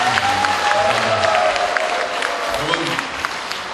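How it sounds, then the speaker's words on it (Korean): Audience applauds after a lecture, a dense wash of clapping that holds fairly steady then thins slightly, with a voice speaking over it. "박수 한번 드립니다"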